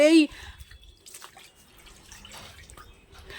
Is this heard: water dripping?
yes